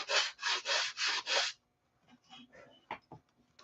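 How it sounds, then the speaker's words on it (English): Hand sanding of a workpiece: five steady back-and-forth rasping strokes, close and fairly loud, followed by a pause and a few softer scrapes and light knocks. "Got to sand on this a little more, make this a little better."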